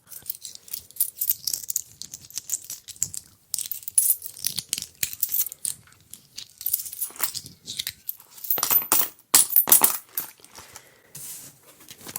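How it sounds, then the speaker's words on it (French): Coins and tokens are sorted by hand from inside a handbag, giving close, sharp metallic clinks and jingles in irregular bursts with brief pauses, with no talking. "Et des pièces de monnaie."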